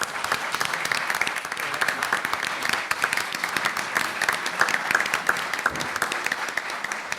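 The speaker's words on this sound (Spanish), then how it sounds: "Humberto Rivera Guerrero, le damos un aplauso." An audience applauds the authors seated at the head table of a formal session, a dense, steady patter of many hands clapping continuously throughout, close and fairly loud with no talking over it.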